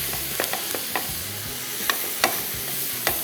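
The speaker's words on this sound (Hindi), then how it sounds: "बीफ पका हुआ है मुकम्मल तौर पे, हमने सिर्फ इन चीज़ों को थोड़ा सा मिला के पैन फ्राई करना है" Spiced cooked beef filling sizzles in a frying pan as a spoon stirs and scrapes through it in intermittent knocks and swishes, near and steady, with no voices.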